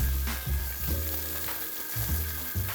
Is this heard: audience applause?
no